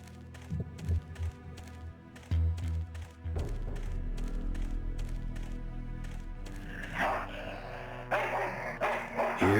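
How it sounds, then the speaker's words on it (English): A dog barks and growls in the Full Throttle Remastered video game, repeated sharp barks over low thumping game sound and a steady rumbling background. "Here, Poochie Pooch"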